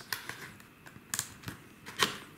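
A box wrapped all over in tape being unpacked, with several sharp, close clicks and crackles of tape and cardboard spaced irregularly.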